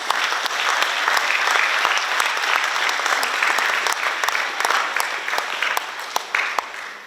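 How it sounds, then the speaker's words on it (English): An audience at a graduation ceremony claps loudly and steadily for about seven seconds, a dense, even sound of many hands with a few sharp claps standing out. "Let's give them a big round of applause."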